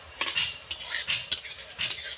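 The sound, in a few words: stirring semolina in a pan with a spatula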